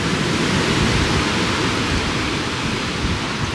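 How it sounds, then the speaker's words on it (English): Strong, steady wind roars outside a van, a loud broadband rush close by and unbroken, with no voices. "The wind has picked up, as I'm sure you can hear."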